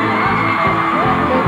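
A cheering, whooping crowd greets a band at a Brazilian music awards show, with loud yells and applause over a pulsing low musical beat.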